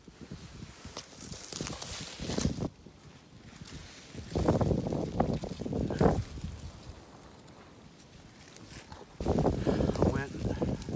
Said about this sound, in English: This wind is so bad, about 20 miles an hour, blowing them all over